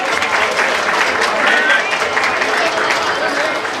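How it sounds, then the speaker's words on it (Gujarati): A wedding-ceremony audience breaks into steady, dense applause as donor families are called onto the stage, the clapping loud and continuous throughout with crowd noise mixed in. "તાળીઓના ગડગડાટ સાથે તેમને વધાવી લઈશું."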